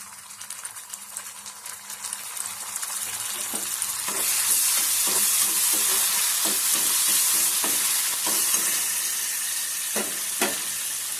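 Ginger-garlic paste sizzles and fries in a hot pan, with steady crackling that swells louder after a few seconds, while a spoon scrapes and stirs at intervals.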